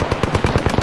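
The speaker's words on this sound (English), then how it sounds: "I was just getting shot at long distance." Rapid automatic gunfire in a video game, a tight burst of about eight sharp shots in quick succession, loud and close with no voices.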